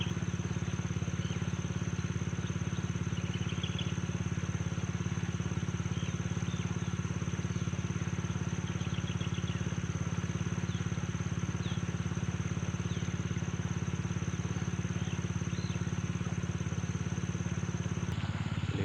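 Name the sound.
engine of nearby water pump for irrigation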